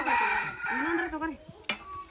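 A rooster crows once on a village farm where cows, goats and hens are also kept, the drawn-out call rising and falling over about a second, with faint background voices.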